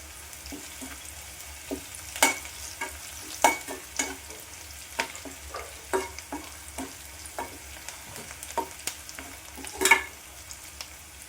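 Onions sautéing with salt in a pan for an okra and coconut stir-fry, a soft steady sizzle broken by repeated sharp spatula scrapes and stirring clacks at an irregular rhythm, close and alone without talk.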